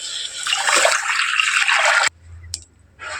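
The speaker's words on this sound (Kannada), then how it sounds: "ಒಂದು ಚಮ್ ನೀರನ್ನ ಹಾಕೊಳ್ಳಿ." Water pouring from a spoon in a splashy, steady stream for about two seconds, loud and close, then stopping abruptly, followed by a quiet pause and a brief, fainter splash at the end.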